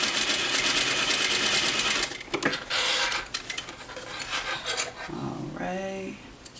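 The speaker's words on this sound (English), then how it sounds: "I'm just sewing over a little bit of a 1/4 of an inch" A sewing machine stitches a key fob strap with a quarter-inch seam, a close, dense mechanical whir for about two seconds, then fades into scattered rubbing and handling noises with a few brief faint tones near the end.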